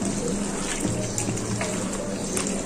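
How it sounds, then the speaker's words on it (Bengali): Spiced pangas fish tossed with potato, onion and green chilli frying in hot oil, a loud dense crackling hiss that stays steady throughout, close up. "এখন তেলে দিয়ে দিচ্ছি।"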